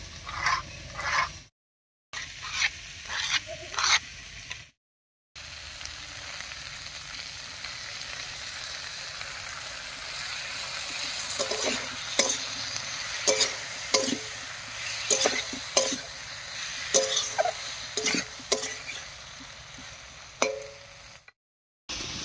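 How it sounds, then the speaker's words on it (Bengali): Ground spice paste with tomato stirred and fried in a pan for a Bengali vegetarian flat bean dish, a steady close sizzle broken by scraping stirring clicks and a few short silent gaps. "বাটা মশলাটা দিয়ে একটু নাড়িয়ে নিয়েছি"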